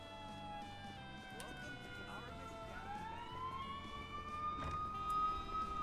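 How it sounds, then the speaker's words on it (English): A police siren wails and sweeps up and down at a distance, with muffled street noise underneath. "God, I hate how loud sirens are."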